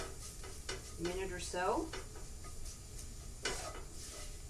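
Flour stirred into sizzling onions in a pan for French onion soup, a soft, steady sizzle with a few scraping stirs over a few seconds, while a voice speaks briefly.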